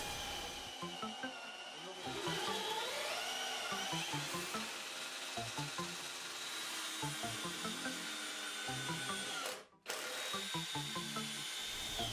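A power drill whirring in repeated short runs, winding up and down as screws are driven into wood while boxing in pipes, with light tapping and handling noises between bursts.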